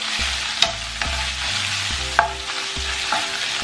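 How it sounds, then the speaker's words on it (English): Soy chunks, carrot and shiitake mushrooms stir-frying in a hot pan for homemade jjajangmyeon: a steady, close sizzle broken by repeated spatula clanks and scrapes at an uneven rhythm, with no voices. "Add the soy chunks, carrot and shiitake mushrooms and stir fry for another 30 seconds"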